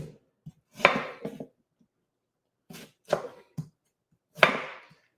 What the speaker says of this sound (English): So we're going to go ahead and start chopping this up.